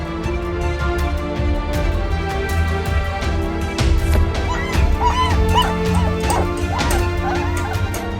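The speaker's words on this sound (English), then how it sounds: "they heard a puppy screaming" A puppy cries and whimpers in high, wavering yelps and whines, repeating in short bursts up close amid some background noise.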